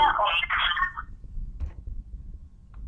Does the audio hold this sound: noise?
yes